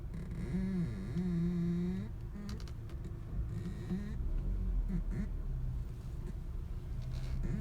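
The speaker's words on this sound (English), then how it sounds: "This time it just makes a horrible noise anytime you turn the wheel." A 2011 Audi Q5's steering gives a loud, wavering groan and moan with a shifting pitch as the wheel is turned, carried over a steady low rumble and lasting the whole time.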